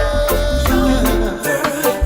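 A full reggae-style music track plays with steady bass, rhythmic drum hits and a sustained melodic line, loud and continuous with no talking over it.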